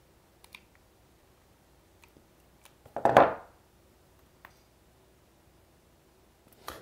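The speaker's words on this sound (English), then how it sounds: "I'll use my snips. Okay, that works too. So I need to snip it right here." Metal snips cut through material at a craft table while testing candle beads, giving one brief, crisp crunching snip in the middle, with a few faint clicks and taps scattered around it in an otherwise quiet room.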